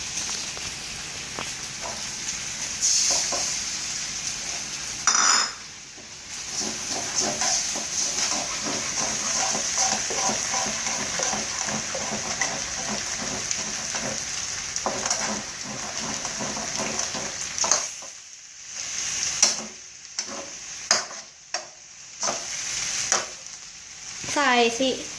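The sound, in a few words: squid stir-frying in a pan for seafood fried rice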